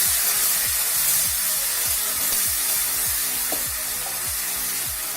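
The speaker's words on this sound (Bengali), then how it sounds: "এবার আমি সামান্য দুধ দিয়ে দিচ্ছি।" Milk poured into melted sugar in a hot pan gives a steady, broad hissing sizzle, close and continuous throughout, with a faint repeating low tapping underneath.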